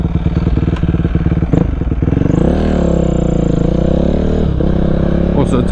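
A Husqvarna supermoto motorcycle is ridden on an abandoned road, its single-cylinder engine thumping in a close, rapid pulse, then revving up into a smoother, louder sustained drone before easing off.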